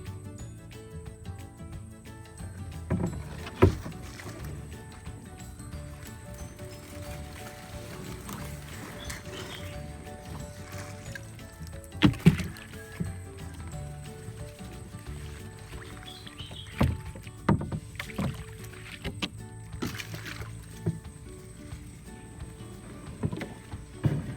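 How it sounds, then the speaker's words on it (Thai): A lone rowboat is paddled through a lotus pond, giving soft, irregular splashes and knocks of the paddle against water and hull under a low background hum, fairly close and quiet, without speech. "พายเรือคนเดียว"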